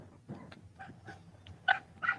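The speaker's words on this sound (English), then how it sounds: "I want to show this cute dog" A dog lets out several short, fairly faint yips and whimpering barks, spaced irregularly at a moderate distance.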